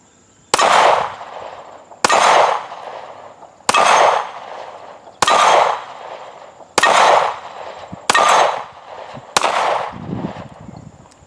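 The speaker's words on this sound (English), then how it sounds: "let's go ahead and put a few rounds down range" A handgun fitted with Handle It Grips fires seven loud, close shots spaced roughly every one and a half seconds, each a sharp crack with a ringing decay.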